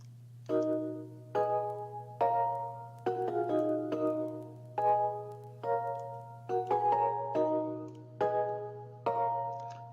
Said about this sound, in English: This is the warp bell.